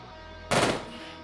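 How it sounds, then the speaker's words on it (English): A single short burst of assault rifle gunfire from the video game Quasimorph cracks out loud and close over a faint background hum, then decays quickly. "Assault rifle."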